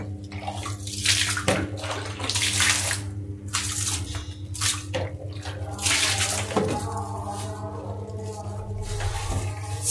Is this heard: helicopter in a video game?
no